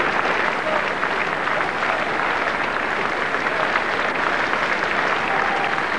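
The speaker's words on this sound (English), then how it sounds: "some nice, polite, welcoming applause for the challenger" Steady, polite applause from a boxing crowd welcoming the challenger before a fight, a dense continuous patter of clapping that holds evenly throughout with no voices standing out.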